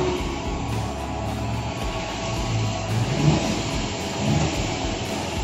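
A tanker truck engine runs at raised revs while its PTO drives a fuel pump, giving a dense, steady drone with slight swells in intensity, close and continuous, with no speech.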